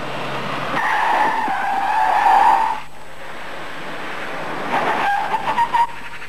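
Car emergency braking without ABS, tires skidding: a loud squeal of locked tires for about two seconds, then a pause and a second, shorter stuttering squeal, no talking.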